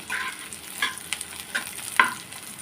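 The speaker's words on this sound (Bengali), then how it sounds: "পেঁয়াজ রসুন কালো জিরা শুকনো লঙ্কা একসঙ্গে ভেজে নেব" Onion, garlic, nigella seeds and dried chillies frying together in a pan, a constant hiss broken by several sharp clinks and scrapes of stirring, with no one speaking.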